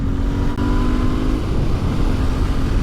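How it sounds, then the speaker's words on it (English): A Royal Enfield INT650 motorcycle engine running at a steady, loud idle-to-light rev, with a continuous low rumble and a faint rising tone midway, close and without talk. "Honestly, all things considered, this motorcycle sounds pretty awesome."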